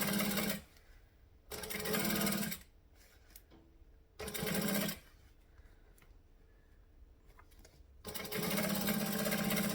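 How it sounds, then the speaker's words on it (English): A sewing machine top stitches a Magdalena circle bag in three or four bursts of steady, rapid stitching, separated by quiet pauses with faint handling noise. "So I'm pulling this back, and I'm top stitching"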